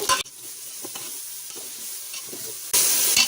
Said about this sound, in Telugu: అంతా ఒకసారి కలుపుకోవాలి.